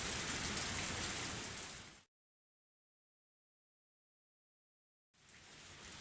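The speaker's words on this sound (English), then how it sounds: "I felt the raindrops hit my face." Steady rain from a Higurashi visual novel pours down loud and close for about two seconds, cuts to dead silence for three, then resumes with the same dense hiss of falling rain.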